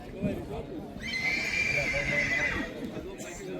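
A Kathiawari mare at a horse fair gives a loud, drawn-out whinny lasting a couple of seconds, close by, amid crowd chatter and background noise.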